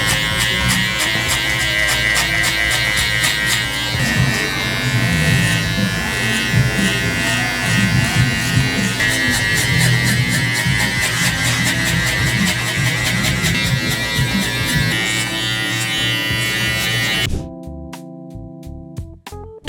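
Electric hair clippers buzz continuously, close and loud, while clipper-over-comb cutting removes bulk on top over a 3-guard during a taper fade, the tone shifting with each pass before cutting off near the end.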